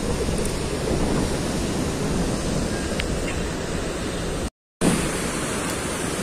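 High sea waves and strong wind on the Alexandria seafront during Storm Daniel, a loud continuous roar of surf and gusting wind broken by a brief dropout near the end, no voices.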